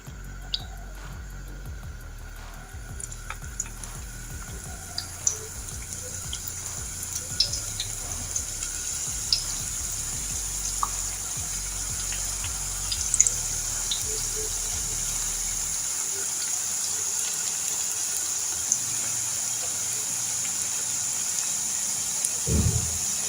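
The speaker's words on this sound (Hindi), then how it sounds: "अब मैं इनको फ्राई करने लगी हूँ।" Potato-filled samosas frying in hot oil: a faint, steady hiss with scattered small pops and crackles running throughout, quiet and continuous with no talk.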